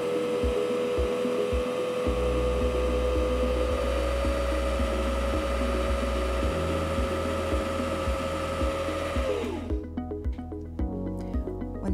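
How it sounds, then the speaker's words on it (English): Singer C5200 sewing machine winding thread onto a bobbin: a steady, close motor whir with a sustained tone and rapid mechanical ticking that holds for several seconds, then winds down and shifts to slower clicking near the end. "You can stop winding anytime when you have as much thread on your bobbin as you want, or you can continue winding."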